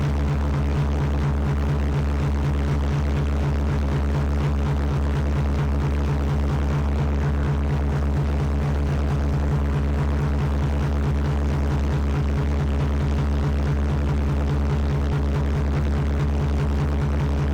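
Loud, continuous rapid throbbing of a boat-mounted pulse jet engine, a steady pulsing roar with an even beat and no voices, unchanged for the whole stretch.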